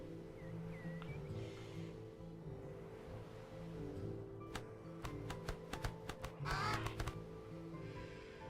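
Crows caw in the Age of Wonders III strategy game, a few sharp calls rising over a steady low musical drone, with clicky interface taps and a brief flurry near the end.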